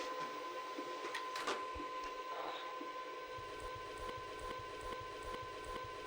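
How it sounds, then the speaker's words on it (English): A laser printer runs a gold foil print job, putting out a steady mechanical whir with a high tone, soft clicks and a regular rhythmic ticking toward the end, fairly quiet with no voices. "Laser printers print so fast, so you'll see how fast this comes out in real time."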